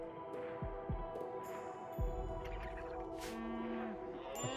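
A cow moos in the colony game Rimworld, giving a few low, drawn-out lowing calls over a soft game hum with no talk.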